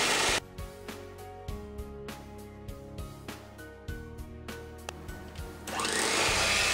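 An electric mixer beating condensed milk for a chocolate coffee pudding, a close, steady motor whir broken by repeated clacks and knocks as the beaters strike the bowl, ending in a louder, harsher rush.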